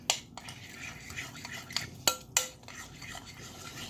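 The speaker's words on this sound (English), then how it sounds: "we'll go ahead and stir this up" Half a teaspoon of salt is stirred into a mixture with a spoon, giving soft scraping swirls broken by a few sharp metallic clinks against the bowl, close and fairly quiet with no talking.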